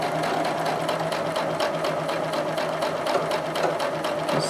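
A sewing machine runs steadily while quilting quarter-circle lines on a grid-design quilt, giving a close, even, rapid mechanical chatter with a constant hum throughout, and no one speaks.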